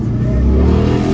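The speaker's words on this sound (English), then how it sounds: "It's that motorcycle." A motorcycle engine revving nearby, a loud, continuous low-pitched roar with a slight rising pitch across a brief stretch and no talk over it.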